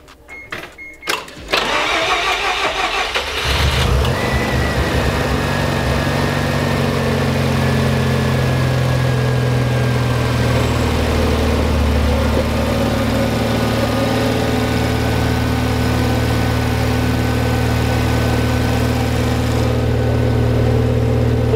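A Mazda RX-7 FD3S rotary engine, newly fitted with an intercooler and intake, cranks and fires for its first start, then settles into a loud, steady idle with a buzzy drone and faint whine.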